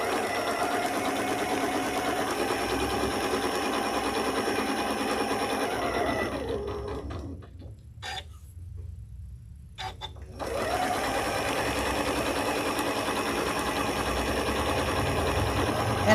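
A sewing machine stitches an applique block in steady, loud rapid bursts, pausing for a couple of seconds at a pivot point before resuming.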